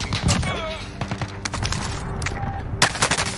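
Video game gunfire crackles in repeated bursts of sharp shots amid battle noise, with a louder crack near the end.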